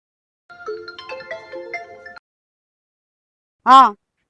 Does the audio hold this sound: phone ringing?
yes